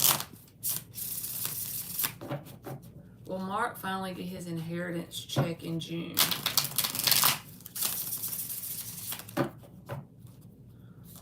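Tarot cards are shuffled by hand, producing quick papery riffles and rubbing bursts, with a person talking over and between the shuffles.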